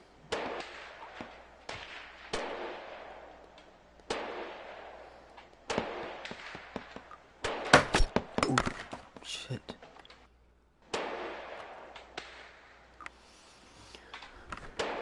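Gunshots from a Model 1886 Yellow Boy Special rifle in a video game, a cluster of sharp, loud cracks fired in quick succession near the middle, set among talking that fills the rest.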